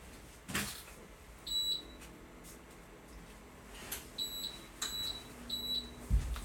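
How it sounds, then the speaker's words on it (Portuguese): An indoor air conditioner gives a few short, high electronic beeps as it is switched on, spaced apart over faint room noise and light knocks, with no talking. "Vou ligar o ar aqui porque tá um calor danado."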